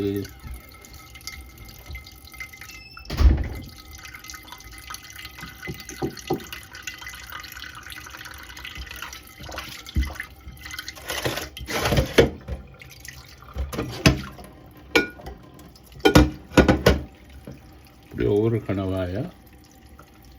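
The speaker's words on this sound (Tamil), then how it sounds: "கணவாய இப்படி கொஞ்சம் கழுவி" Tap water runs and splashes as squid is rinsed in a kitchen sink, soft trickling punctuated by louder bursts of splashing and handling, with someone talking over it.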